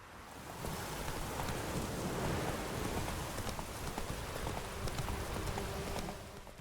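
Horse hooves clip-clop at a steady pace in The Witcher 3, partly buried under a constant hissing wash like rain that fills the whole stretch.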